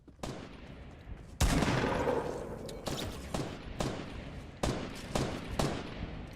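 Shotgun fire in a Fortnite match: a loud close blast followed by several sharp repeated gunshots with decaying echoes, fired in quick succession.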